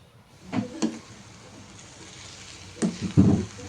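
Tamarind leaves and dried prawns being stirred in a pan for a curry, giving a few soft scraping and clinking strokes around the half-second mark and again near the end, with quiet stretches between them.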